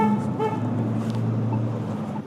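Car horns honk on a busy street, a steady blare over the rumble of traffic and engines that holds for a couple of seconds, loud and close with no voices.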